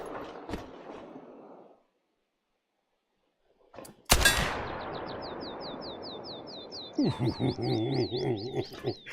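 One sharp, loud shotgun blast at a skeet and trap range after a silent pause, followed by a long rolling echo, then birds chirping repeatedly nearby; brief murmur before the shot.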